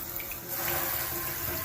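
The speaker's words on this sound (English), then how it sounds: "I'm going to turn the hot water on." Hot water runs from a tap fed by a Manabloc plumbing manifold, a steady rushing hiss that swells to full flow partway through and then holds evenly.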